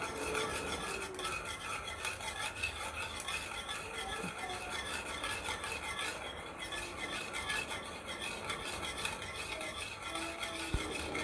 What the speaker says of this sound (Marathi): आता एका हाताने आपण थोडं थोडं करत रवा टाकूया आणि असं मिक्स करत जाऊया